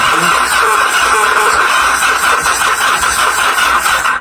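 A cold Yamaha XS motorcycle engine cranks and runs on choke, a loud, steady mechanical drone close by with no clear revving.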